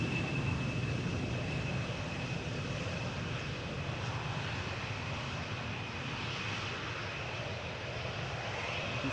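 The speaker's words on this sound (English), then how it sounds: "Next up, Boeing 737-800, KLM flight" A KLM Boeing 737-800 at Amsterdam Schiphol Airport produces a steady, loud jet engine roar with a sustained high whine, continuous and uninterrupted, heard from a spotting position.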